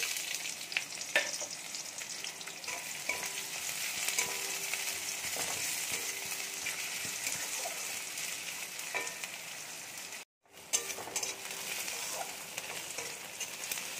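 Chopped onions with cardamom frying in leftover fish-frying oil for a Bengali fish kalia, a steady close sizzle with occasional stirring and a brief drop to silence near the end.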